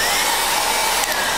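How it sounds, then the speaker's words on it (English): Hair dryer blowing hot air onto mirror glass in winter to clear condensation, a steady, loud whine and rushing hum holding constant throughout. "always use a hairdryer this time of year"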